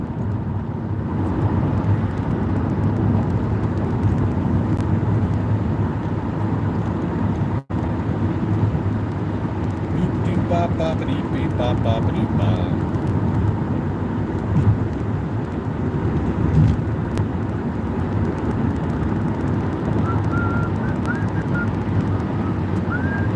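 A car rolls along Arizona roads on a morning drive, a steady low road and engine rumble with wind buffeting throughout and one brief dropout partway through, no talking.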